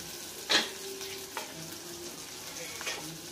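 Tomatoes frying in oil in a pan for a fish curry, a steady close sizzle punctuated by three sharp spatula stir scrapes spaced about a second apart.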